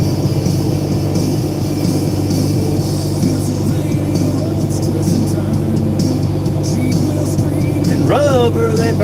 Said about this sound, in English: Yeah, they sound a little bit different, right, Rotary? The two-stroke. Hell yeah. Two-stroke Detroit, man